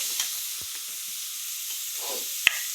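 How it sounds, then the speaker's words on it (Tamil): Onions with green chili and curry leaves sautéing in a pan, giving a soft steady sizzle with a few faint stirring taps, quiet and without talk. "வெங்காயம் நல்லா வணங்கணும்."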